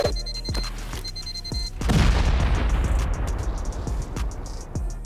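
A shotgun trap firing in a video game: a loud booming blast lands after a few sharp clicks and an electronic beep, followed by a dense rattle of rapid gunfire and impacts that stays loud to the end.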